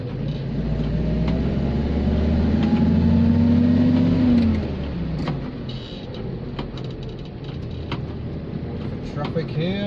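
A 1956 Austin Cambridge A50, a New Zealand-assembled saloon, drives downhill in third gear, its engine droning steadily and rising in pitch before easing off, with someone talking over it throughout.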